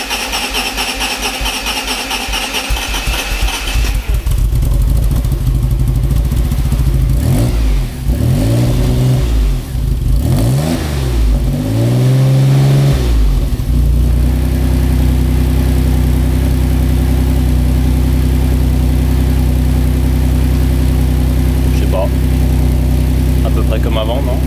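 A Maserati 4.24V engine turns over with a rapid starter whir, catches, and revs in several rising and falling sweeps before settling into a loud, steady idle close to the microphone.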